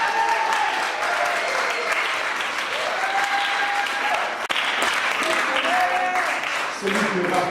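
A church congregation applauds and cheers for the Lord during a revival seminar service, with steady, loud clapping filling the room continuously, a brief dip midway before the crowd carries on.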